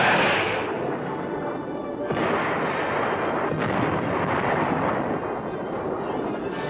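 Air Force strikes in Vietnam War combat footage, a heavy rumbling explosion followed by further booming blasts that roll on as a continuous low roar, loud and fairly close.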